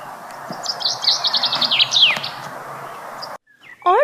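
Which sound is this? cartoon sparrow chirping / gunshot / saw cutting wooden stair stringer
cartoon sparrow chirping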